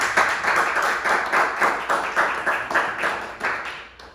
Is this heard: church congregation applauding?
yes